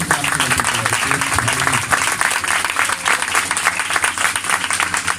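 A church congregation bursts into loud, continuous applause during a sermon, thick and sustained with a low hum and some voices blended in.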